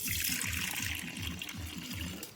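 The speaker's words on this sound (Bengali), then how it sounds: "এবার পাতিলের মধ্যে ঢেলে দিচ্ছে" Strained milk made from powdered milk for sweet yogurt pours into a pot in a steady, close, gurgling stream that runs without a break.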